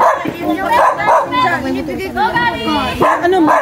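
A dog, a mixed-breed rescue, yips and barks repeatedly in a home setting, loud and close, mixed with people talking.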